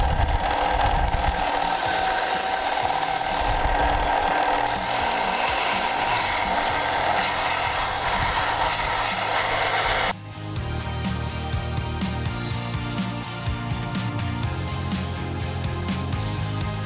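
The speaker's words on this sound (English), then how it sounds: "we're just going to shape it out on the sander" An electric sander grinds a piece of ebony into a wand shape, a continuous abrasive whir with a rasping edge that shifts in pitch partway through, loud and close with no talk.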